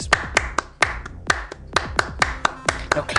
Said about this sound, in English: Now clap like this.